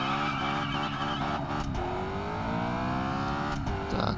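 Audi S6 engine in the PC racing game Test Drive Unlimited, droning loud and steady as the car pulls away, its pitch climbing smoothly through the revs with a brief dip partway, no talking over it.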